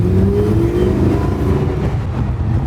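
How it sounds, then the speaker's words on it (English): A car engine revs loud and close on a late-night drive, a continuous throaty roar with rising and falling pitch and no talk over it. "That car, no matter what mode you're in, it's loud as shit."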